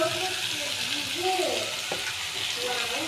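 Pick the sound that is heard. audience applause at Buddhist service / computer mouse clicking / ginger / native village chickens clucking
ginger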